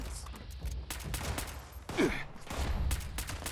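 Gunfire in the video game Fallout 76, a few sharp shots breaking through a busy background of game sound, with the loudest burst near the middle of the clip.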